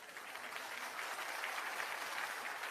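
Meeting attendees applaud in a dense, even wash of clapping that stays at a moderate level, somewhat distant, for a few seconds with no speech.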